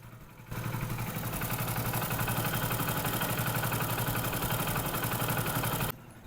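A Hero Splendor BS6 motorcycle idles after a timing chain repair, its engine starting abruptly and then running at a steady, even, rhythmic putter for several seconds before cutting off.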